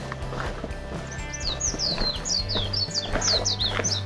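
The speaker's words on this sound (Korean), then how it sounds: "맑은 새소리에 잠시 길을 멈춥니다." Small birds chirp and sing repeatedly along a mountain trail lined with cypress trees at Yeongchwisan in Yeosu, with quick high calls over a constant low hum and faint footsteps.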